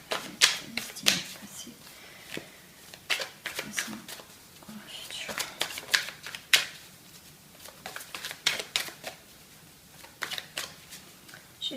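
A deck of tarot cards is shuffled and cut close up, crisp riffling snaps and slaps in quick irregular bursts, with a soft voice speaking quietly between them.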